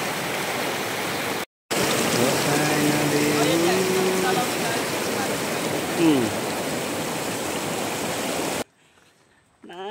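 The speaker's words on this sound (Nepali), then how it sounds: "एउटै खोला तिनपल्ट तरियो यार नि" A rushing mountain stream near Juwana waterfall in Dharan, a steady broadband wash of flowing water, close and continuous, with people talking over it.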